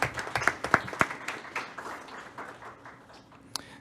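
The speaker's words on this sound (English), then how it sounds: "let's give a round of applause to our principals, our administrators, our faculty, and our staff" Scattered clapping from attendees at a school district governing board meeting, with a few sharp individual claps early on that soon fade into sparse, quieter patters.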